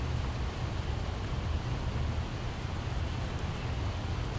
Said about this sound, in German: Es müsste mal wieder aufhören zu regnen.